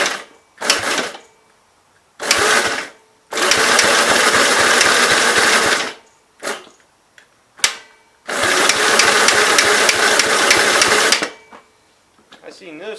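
A 1951 Gravely Model L engine with no fuel and no spark is cranked over in several bursts, a loud, close, labored churning of two to three seconds each, separated by pauses and clicks.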